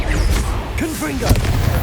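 The Confringo fire-blast spell is cast in combat in Hogwarts Legacy, producing loud booms and bursts layered with vocal sounds and other battle noise.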